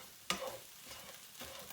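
Eggs cook in a pan with faint, soft sizzling and a couple of quiet scraping stirs, the first stir a sharper scrape near the start, all low in level and without talking.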